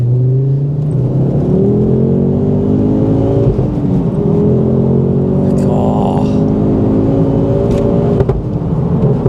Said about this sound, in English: Third to fourth literally sounded like there was an explosion from the back of the car.